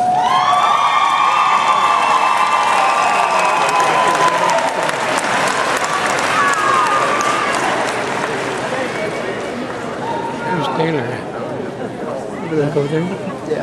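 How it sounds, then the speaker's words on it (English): Loud, dense applause from a Galveston College commencement crowd standing to honor families, mixed with cheers and scattered shouts, tapering slightly toward the end with some voices rising over it. "Would you please stand up and turn around and give them a round of applause?"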